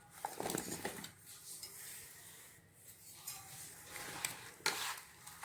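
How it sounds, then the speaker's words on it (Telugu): Cut raw mango pieces for avakaya pickle are tossed and mixed by hand in a vessel, giving soft rustling and scraping with a few sharper knocks against the container, fairly quiet and close. "ఇవన్నీ ఇలా కలిపేసుకునండి"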